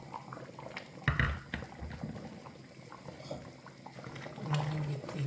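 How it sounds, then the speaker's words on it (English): Achi soup in a covered pot comes to a boil with a low bubbling, simmering burble, a few soft knocks and clatters of the lid or spoon over steady liquid noise. "I'm gonna cover and allow it to come to a boil."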